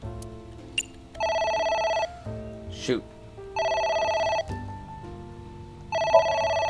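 Telephone ringing in the game AI: The Somnium Files, with three loud electronic rings in bursts of about a second each, separated by gaps where a person speaks briefly.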